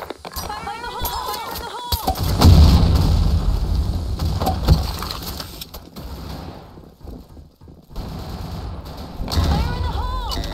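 Grenade blasts and gunfire in the BlackShot online shooter come as heavy booming thuds with scattered sharp reports and mechanical clatter. A game voice shouts repeatedly throughout the long busy stretch.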